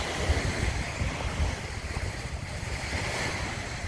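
Sea waves wash onto the shore at Puerto Azul in Ternate, a continuous broadband surf hiss with soft rolling surges, mixed with light wind buffeting on the microphone.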